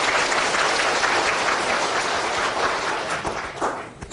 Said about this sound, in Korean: 영광의 박수를 힘차게 하고 시작합시다.